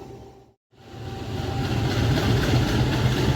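A CC 203 diesel locomotive in vintage livery shunting near Lempuyangan in Yogyakarta: after a brief dropout, a loud, close engine rumble swells and holds steady as the train rolls along.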